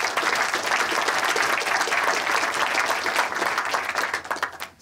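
Audience applause greets two speakers at a Bristech 2019 tech conference, a steady dense clapping from a large crowd that holds for several seconds and then begins to thin out toward the end.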